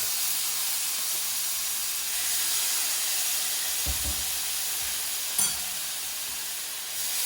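Garlic dropped into a hot pan gives a steady, close hissing sizzle throughout, with a couple of brief clinks of a utensil against the pan and no voice.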